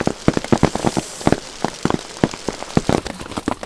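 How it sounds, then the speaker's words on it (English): Hail pelts down on hikers out in a mountain cirque, dense irregular clattering impacts striking close to the microphone in rapid bursts, loud and continuous without speech. "This is the worst hail I've ever hiked in."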